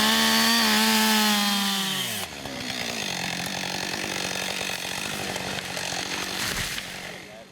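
A chainsaw cuts timber in a forestry class. The engine revs high, then drops as the chain bites into the wood, and a loud, steady cutting roar runs close by.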